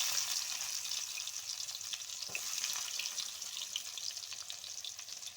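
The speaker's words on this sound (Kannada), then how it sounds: "ಚಂದಾಗಿದು ಫ್ರೈ ಆಗ್ಬೇಕ್ರಿ" Garlic and chickpea lentils frying in a pan make a steady, close hiss that holds for a few seconds, with faint stirring scrapes and no voices.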